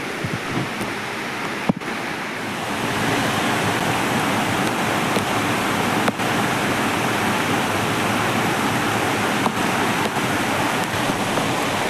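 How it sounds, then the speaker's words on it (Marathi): Steady, dense broadband hiss of rain pouring down by a river in Konkan, constant and fairly loud throughout with no voices. "पाऊस पडायला लागला"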